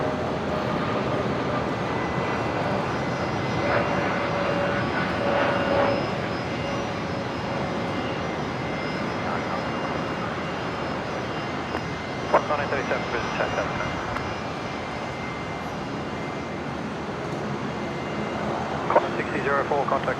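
An aircraft landing on runway 01 right at Brisbane Airport gives a steady, broad engine roar that swells gently and fades, with radio chatter and talk running over it.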